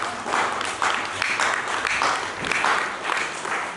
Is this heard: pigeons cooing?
no